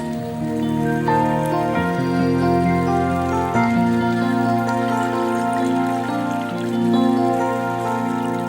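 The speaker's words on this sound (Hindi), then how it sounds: "इसको डालने के बाद आप इसमें डालें 3 कप पानी।" Water pours steadily into a cooking pot for chicken shorba, a continuous splashing trickle whose tone rises in pitch as the pot fills, with a few pauses between cupfuls.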